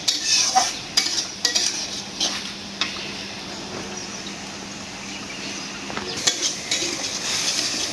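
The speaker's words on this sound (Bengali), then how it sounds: "মশলাটা কষানো হয়ে গেল তেল উঠে গেছে" Spice paste frying down in oil for a prawn vegetable curry, a low continuous sizzle broken by repeated scraping and clinking of a spoon against the pan, close and steady.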